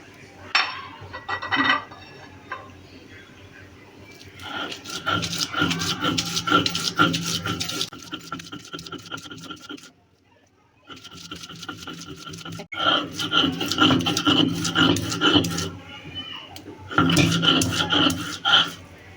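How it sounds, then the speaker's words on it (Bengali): Onion and chopped ginger ground on a stone slab with a stone roller, a rough rhythmic rasping scrape in long bursts with a short pause midway, close and loud. "এখন পেঁয়াজ এবং আদা কুচিটাকে বেটে নেব।"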